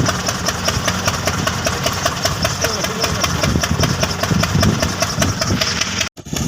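A steady, loud engine idles close by with a rhythmic mechanical knock, running continuously and briefly cutting out near the end.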